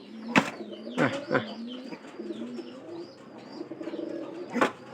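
Soft, low pigeon cooing repeats nearby, broken by a few sharp clicks and taps, with faint chirps above; a pigeon chick is present.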